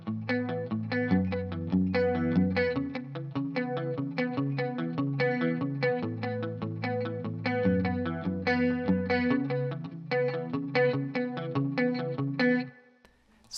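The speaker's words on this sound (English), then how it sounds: "we go into this awesome part for the verse that uses 3 chords and some palm muting." Electric guitar with effects and some distortion plays a steady verse pattern of three chords with palm muting. Rhythmic chugged notes ring out alone, with a brief drop near the end.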